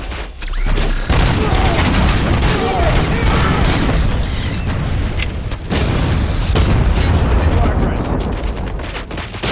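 Loud blast in RoboCop Rogue City during the final boss fight, a grenade explosion followed by a dense, continuous roar of gunfire and combat noise, with shouted voices underneath.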